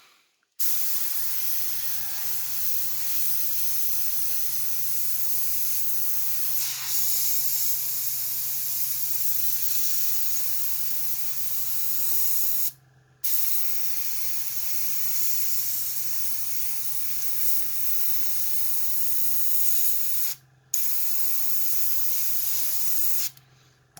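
An airbrush sprays paint onto a model fleet carrier in long continuous hissing bursts over a steady low hum, with two brief pauses between passes, close and fairly loud.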